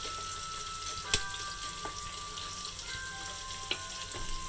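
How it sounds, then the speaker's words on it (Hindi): Onion and green chillies, added after cumin to smoking hot oil, frying in a pan over a full flame. The sizzle is a steady, moderate hiss, broken by a few sharp crackles and small pops. "इसको सुनहरा होने तक हम इसको तलेंगे"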